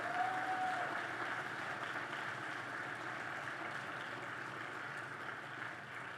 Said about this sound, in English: give them a round of applause because they deserve it too